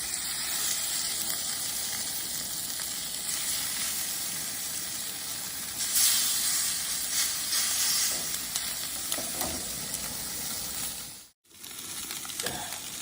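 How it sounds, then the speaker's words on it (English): A pompano fillet fries skin side down in a cast iron skillet at a bank-side camp cookout, giving a steady, close sizzle and crackle throughout with a short break near the end. "Now I'm going to start skin side down on the pompano."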